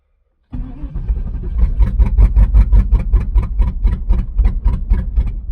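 A 1996 Pontiac Trans Am engine kicks in abruptly and runs with an uneven, pulsing chug, surging and sagging rhythmically without climbing into a clean rev, close and loud.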